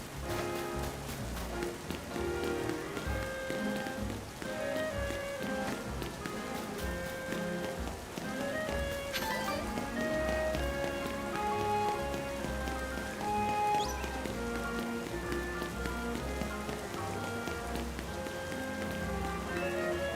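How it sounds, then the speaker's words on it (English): Rain patters down in the Pokemon Legends Z-A video game, a soft continuous hiss of drops beneath layered game music and light footstep-like taps. It stays steady throughout with no speech. "I don't want to do it in the rain."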